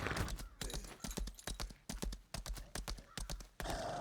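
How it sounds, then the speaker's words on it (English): Rhythmic clip-clop of horse hooves trotting in a video game at a steady pace, crisp close taps repeating in quick pairs throughout. "Let's hop on our horse and ride back."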